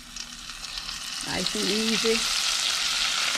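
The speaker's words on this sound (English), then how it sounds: "Got some sizzling going on now. Mm-hmm. And some popping." Soft shell crab frying in hot oil, a steady broad sizzle with popping that grows louder as the crab goes in, with a brief spoken remark partway through.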